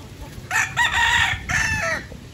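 A rooster crows twice nearby, each call loud and drawn out, with a short pause between them over faint background noise.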